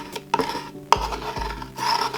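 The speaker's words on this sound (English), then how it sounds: "we're just gonna do one final once over with the scraper to make sure all that vinyl is down really well" A scraper is rubbed hard over permanent vinyl on a wooden sign, giving a few short, close rasping strokes with brief pauses between them.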